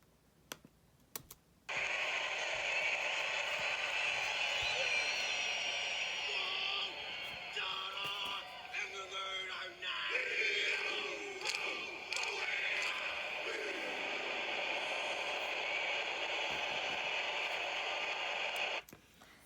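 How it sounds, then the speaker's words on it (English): A group performs a Maori haka war chant, heard as sustained rhythmic shouted chanting at moderate level that starts abruptly and holds steady for about seventeen seconds before cutting off. "I have a short clip of what this Maori Haka looks like"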